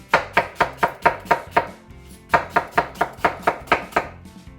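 A knife chops an onion on a cutting board in two quick runs of about ten crisp, evenly spaced strikes each, loud and close, with a short pause between them.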